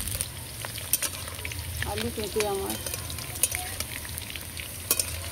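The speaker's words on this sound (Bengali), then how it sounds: "আলু পেঁপে আমি লাল করে ভেজে নেব।" Potato and papaya pieces sizzle steadily in a frying pan, with sharp clicks of stirring and a short spoken phrase in the middle over the continuous hiss.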